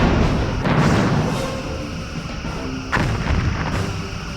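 Photon torpedoes fire in the space combat game Star Trek: Bridge Commander: two heavy, booming blasts about two seconds apart, each trailing into a rumbling decay, with no talking.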